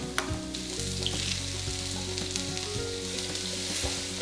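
Chunky ginger and chopped garlic fry in a hot pan, a loud, close, continuous sizzle with occasional stirring clatter and no talking.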